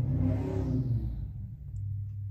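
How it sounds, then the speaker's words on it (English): A car revs its engine as it drives past a house, a low rumbling roar heard from indoors that swells at the start and fades away over a couple of seconds. "somebody just revved their engine past the house"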